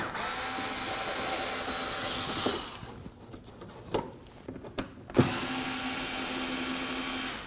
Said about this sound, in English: removing these 3 Phillips head screws.